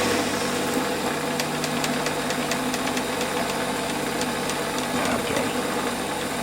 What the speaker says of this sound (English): Running about 750 RPM. That's a 2mm cut across the face.